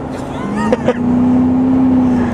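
A 2009 Dodge Durango Hemi hybrid's engine drones loudly and steadily with a rising tone as it accelerates, briefly interrupted by a couple of short sharp bumps early on.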